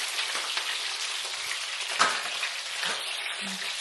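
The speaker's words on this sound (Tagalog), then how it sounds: "diba tumatasik-tasik yung mantika?" Hot oil sizzles and crackles steadily up close as fish fries, with scattered sharp pops and spatters, including a louder pop midway.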